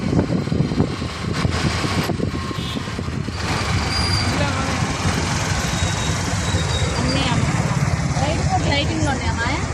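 Busy Vijayawada road traffic in heavy congestion, with auto-rickshaws, trucks and buses rumbling and idling close by in a dense, continuous low roar. Voices talk over it.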